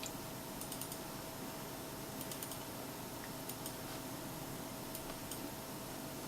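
Light computer keyboard typing with scattered mouse clicks during text editing at a desk, soft and close, in irregular bursts over a steady background hiss, with no voices.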